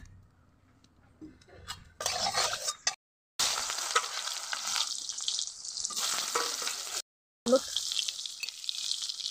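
Boiled potatoes fry and get stirred in hot oil in a home kitchen, a steady close sizzle with scraping stirs, broken by two brief silent gaps.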